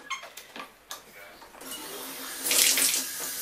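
Tap water runs into a bathtub in a faint, steady stream that swells into a louder, brighter gush toward the end.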